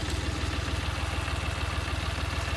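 A Dongfeng-254 tractor idles close by, its engine knocking out a steady, even low chug that holds without change throughout, with no one speaking.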